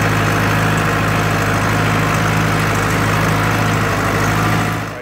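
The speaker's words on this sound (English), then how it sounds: "Now it's time to get in the truck, get some diesel over the tractor" A diesel truck engine runs steadily at close range on a farm, a loud, constant low rumble with droning hum that tapers slightly at the end.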